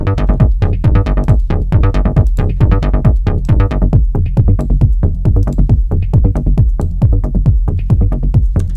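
A steady Repro-1 synthesizer sequence pulses with a punchy kick drum thumping on each beat, loud and continuous with no voices.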